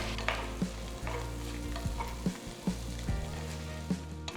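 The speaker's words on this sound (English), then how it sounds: "Saute the onions for about 2 minutes." Chopped onions sauté in butter in a pan for a vegetable makhani, with a steady close sizzle and repeated sharp scrapes and knocks of a spoon stirring through them.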